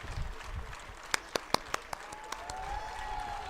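An audience applauds and cheers at the launch of a FIFA football programme for schools in India, with steady clapping, a few sharp claps standing out, and crowd noise throughout.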